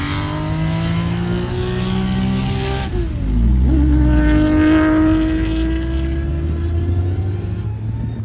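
A Ferrari SWB racing car drives past on a circuit, its engine note rising loud and close with a sharp pitch swing as it passes, then settling into a steady roar as it pulls away.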